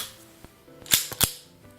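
Colt 1903 pocket hammerless pistol dry-fired on plastic snap caps: a few sharp metallic clicks and snaps, close and crisp, with quieter handling sounds between.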